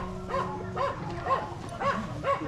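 A puppy barks in short, yelping repeats, about five quick barks in an uneven rhythm, fairly close over a low rumbling background.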